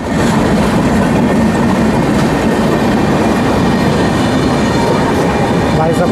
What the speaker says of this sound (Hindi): दोस्तों फिर से हमारी ट्रेन को कोई ट्रेन क्रॉसिंग करती हुई है गजब की हॉकिंग के साथ